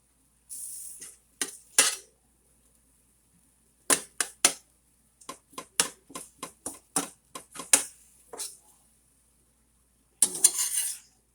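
A utensil scrapes and clacks against a pan in quick irregular bursts while chopping up browning meat, with short pauses between rounds of chopping.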